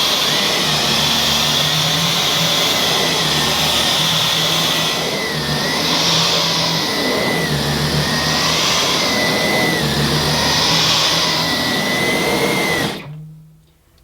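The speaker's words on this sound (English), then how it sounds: "I'm going to try the Dyson Digital Slim on this demonstration carpet" Dyson Digital Slim cordless vacuum cleaner running over a low-pile demonstration carpet, a loud steady motor whine with a high airflow hiss that swells and eases as it is pushed back and forth, then cuts off abruptly near the end.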